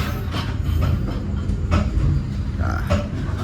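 KA Mutiara Selatan, a first-generation stainless-steel passenger train, rumbles low and steady as it pulls out of Madiun station at night, with faint rail clatter and a few brief higher squeals over the continuous rolling noise.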